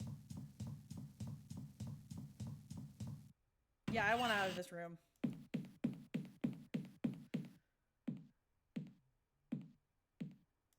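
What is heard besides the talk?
footsteps in the 5 Days a Stranger video game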